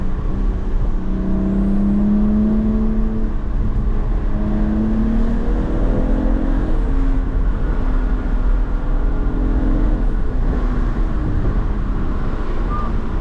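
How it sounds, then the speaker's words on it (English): A stock 2012 BMW E82 135i with a manual gearbox drones loudly on a mountain road, its exhaust rising and falling through gears under steady wind rush, with no talk. "The exhaust sounds really good for stock."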